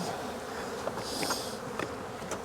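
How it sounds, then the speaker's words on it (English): Honey bees buzzing steadily as they fly out of an opened queen mating nuc, a dense continuous hum with a few louder passes close by, no talking. "I'm gonna let these bees fly out just a little bit because I don't want the foragers or the drones if I can help it"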